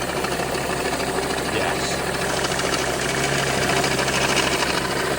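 Ford Transit MK7 3.2 TDCi diesel engine running with a failing crank pulley, a steady loud idle with rapid rhythmic knocking and vibration close up, and a brief spoken word.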